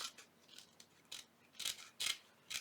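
Scissors trim book-page paper for a mini envelope journal, a series of crisp snipping cuts in an uneven rhythm, growing louder toward the end, close up with no talking.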